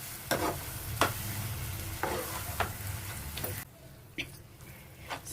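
Grated raw mango pickle frying in oil in a pan, a continuous sizzle broken by sharp scraping strokes of a spoon stirring at irregular intervals, close up, with the sizzle dropping quieter near the end.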